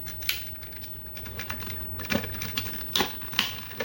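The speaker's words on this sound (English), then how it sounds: "Sometimes you got to turn to get it to click." Plastic Tobot Grand Champion toy pieces are turned and pressed together, making a series of sharp, irregular small clicks and snaps, close and clear, with no talking.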